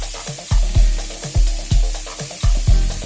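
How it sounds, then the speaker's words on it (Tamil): Chicken tikka pieces being turned in a frying pan with oil, a steady sizzle broken by a regular series of loud scraping stirs, about one every half second, close up with no voices. "இதை சுற்றி திருப்பி வச்சு நல்லா எல்லா இடமும் வேகிற மாதிரி ஃப்ரை பண்ணி எடுத்து வச்சுக்கலாம்"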